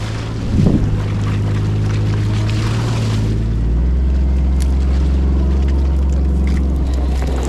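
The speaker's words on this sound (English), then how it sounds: "it's a little windy over here" Loud, rumbling wind buffets the microphone outdoors in Kansas with low booming gusts, steady and close throughout, one stronger thump near the start.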